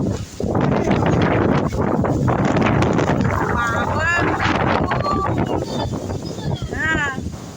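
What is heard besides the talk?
strong wind of a Kalbaishakhi storm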